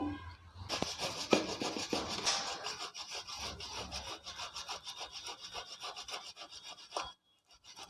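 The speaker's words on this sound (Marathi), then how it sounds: "हे बटाटे आपल्याला खिसून घ्यायचे आहेत तर हे खिसून घेऊया" Boiled potatoes are grated in a kitchen, giving a steady, rhythmic rasping scrape that repeats close up for several seconds before stopping abruptly.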